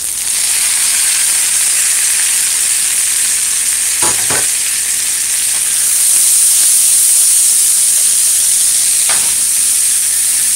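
Tomatoes dropped into a hot pot for ackee and corn pork hiss and sizzle continuously, a loud steady frying crackle with a couple of brief stirring clatters partway through.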